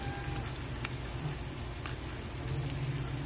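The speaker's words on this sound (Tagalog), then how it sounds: "Nagpainit na ako ng mainit na mantika. Ito na siya, ipiprito ko na isa-isa." Chicken breast pieces dropped one by one into hot oil for a stir fry, giving a steady, close crackling sizzle like light rain that carries through the clip with no talking.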